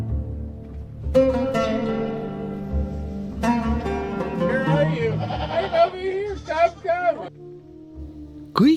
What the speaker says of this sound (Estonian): Kõikide lemmikuteks on lambad ja kitsekari.